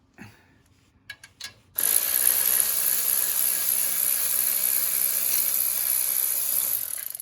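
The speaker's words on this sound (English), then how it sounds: "I'm gonna take these three bolts off." Ratchet wrench removing nuts from the exhaust manifold of a 2003 Nissan Altima 3.5: a few sharp clicks, then a steady, close mechanical whir of the ratchet spinning the nut off, running several seconds alone.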